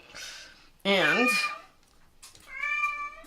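A cat meows twice nearby in a home sewing room, a loud wavering cry followed after a pause by a steadier, drawn-out meow, with a soft voice faintly heard at the start.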